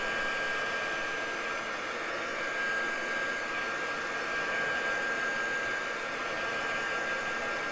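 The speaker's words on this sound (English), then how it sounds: "Just have that with a heat gun." A heat gun drying gel medium on a craft project gives a steady, close airy roar that holds unchanged throughout, with no talking.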